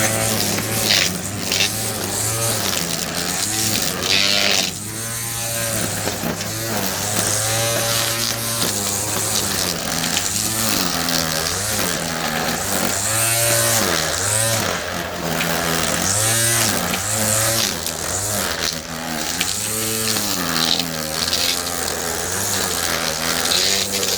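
A Wild Badger 20V cordless weed eater cuts through tall grass with a loud, continuous high motor whine whose pitch dips and rises as it bites into the stalks, heard up close and alone for over twenty seconds.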